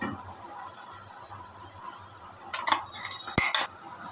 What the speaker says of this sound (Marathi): तेल तापलंय, आताच वाटलेली चटणी आपण तव्यावर घालून घेऊया